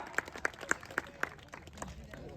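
Crowd at an outdoor kushti wrestling ground in Phulgaon clapping in a loose, uneven burst of sharp claps, with an announcer's voice over a PA running underneath.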